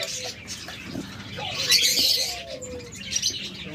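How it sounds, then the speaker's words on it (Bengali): Tame cockatiels call with short chirps and whistles at a bird sale, mixed with background chatter from other birds and a faint hum, close by and moderately loud. "কিছু ককাটেল দিয়ে আপনাদের শুরু করছি দেখুন ককাটেলগুলো কিন্তু টেম"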